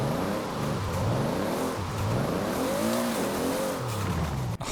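A GT 4586 fitted with a 2JZ engine drifts and spins out in Forza Horizon 4, its engine revving loudly up and down in sweeping waves over continuous tire squeal, close and steady throughout.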